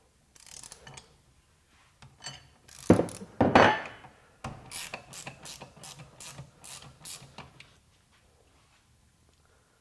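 A Milwaukee flex-head ratcheting wrench, 15/16 size, works a bolt loose with bursts of rapid ratchet clicks, a couple of heavier straining grinds in the middle, then a string of evenly spaced clicks before falling quiet.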